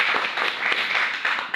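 Audience applause at a Modicare network marketing event in India, dense steady clapping from a crowd filling the short moment, loud and continuous without speech.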